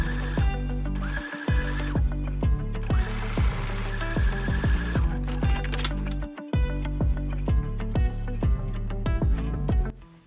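A sewing machine topstitches a fabric belt bag in repeated rapid bursts, each run of stitching stopping and starting again with loud, rhythmic mechanical chatter close to the microphone.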